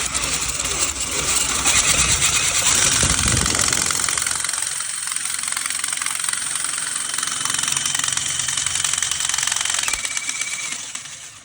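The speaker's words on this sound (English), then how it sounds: "kind of snake line that moves this rotary tool, and you can see the action here when I hit the trigger." Rotary brush tool on a snake line spinning inside a dryer vent, a loud steady whirring rattle with a burst of scraping at first, then a constant droning whir throughout.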